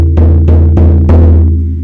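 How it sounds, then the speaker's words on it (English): A single hand drum is struck slowly and evenly as a callback signal in a shamanic journey, about four deep booming hits spaced with short gaps, each ringing out low and resonant, close and loud without any voices. "I pause and then I hit the drum 7 times."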